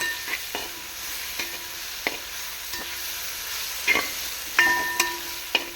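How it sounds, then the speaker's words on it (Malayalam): Tomatoes, curry leaves and green chili sautéing in a pan for Kerala-style egg curry, with a steady sizzle broken by repeated spoon scrapes and clinks at a slow, uneven rhythm, close and clear. "തക്കാളി ചേർത്ത് കൊടുത്തു. നന്നായിട്ട് വഴറ്റുക."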